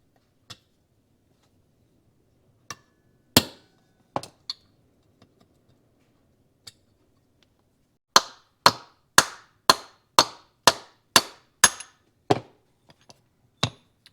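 Hammer blows on a mandrel drive a tight-fitting part out of aluminum on a Yamaha AT-1MX ignition: a few scattered sharp strikes, then a fast, evenly spaced run of about ten loud metallic knocks.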